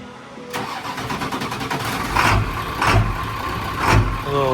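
Ford 7.3 Power Stroke diesel V8 swapped into a 1965 Ford F100 converted to F350 spec, cranking and catching, then running with a lumpy lope and a few loud revving surges, close and alone.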